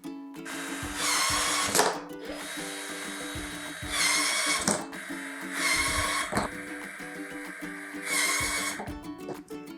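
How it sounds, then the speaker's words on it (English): Half-inch PVC pipe being cut into short pieces with a power tool, four loud bursts of whining cutting noise separated by brief quieter pauses with clatter, close up with no talking. "you're gonna grab your 1/2 inch PVC pipe and you're gonna cut 4 3-inch pieces"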